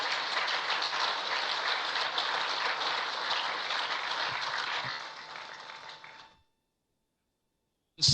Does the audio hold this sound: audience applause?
yes